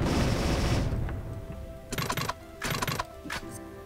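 Turret in the video game Dungreed firing bursts of rapid shots, two or three short rattling volleys amid game music and effects, fairly close and sharp.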